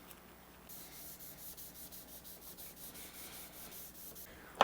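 800 grit sandpaper rubbing back and forth along a rosewood Telecaster fretboard, a quiet rhythmic series of short even strokes close up, ending in a sharp scrape.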